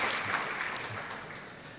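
Faint, steady applause from a seated audience at a forest and green-growth summit panel in Southeast Asia, a soft continuous patter heard from a distance with no voices on top.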